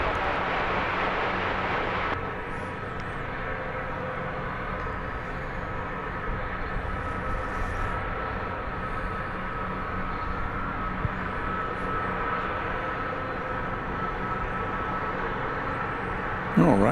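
Airplanes at DFW Airport produce a steady, sustained jet roar that stays loud and even throughout, with a slightly stronger burst at the start and a brief bump at the very end.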